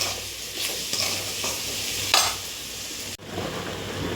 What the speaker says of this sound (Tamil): உருளைக்கிழங்கு பாருங்கள் நல்லா ஃப்ரை பண்ணிகிட்ருக்கேன் டீப் ஃப்ரை பண்ணிகிட்ருக்கேன்